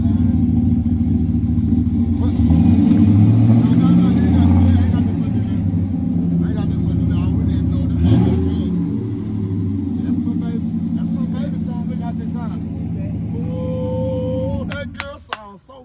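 A 2001 Chevy Silverado truck engine idles loudly and steadily with a deep rumble after a fuel pump swap, running close by throughout while someone talks over it.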